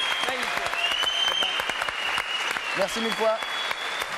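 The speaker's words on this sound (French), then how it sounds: "Applaudissements pour lui." A studio audience at a French television variety show applauds in a steady, close patter of clapping while a presenter speaks over it.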